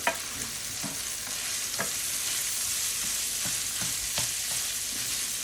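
Sausage sizzles steadily in a pan for gravy, with a spatula scraping and stirring across the bottom in repeated scratchy strokes, close and continuous.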